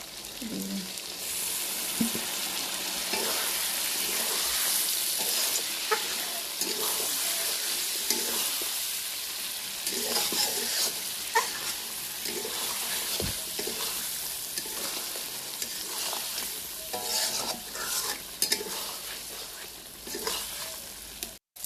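Meat fries in a pan, making a fairly quiet, continuous sizzle over about twenty seconds, dotted with intermittent stirring clicks and scrapes.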